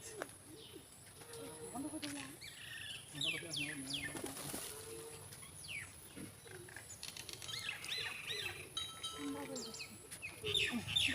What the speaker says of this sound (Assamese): চৰাই চিৰিকটি আছে।